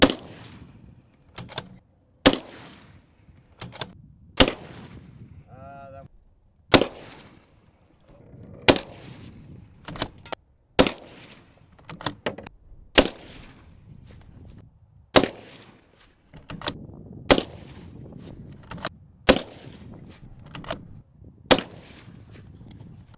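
Sharp, loud rifle shots ring out one at a time at uneven intervals against an Armored Republic A3 body armor plate, each a sudden crack with a short decay, and quiet stretches between them.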